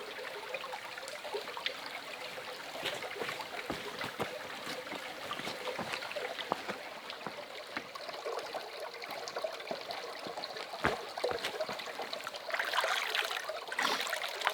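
A small trickle of water runs through the nearly dry Suutarilankoski rapids at an old mill site, a faint, steady babble with scattered drips and splashes and no voices.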